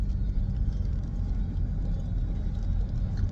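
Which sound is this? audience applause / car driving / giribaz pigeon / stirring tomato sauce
car driving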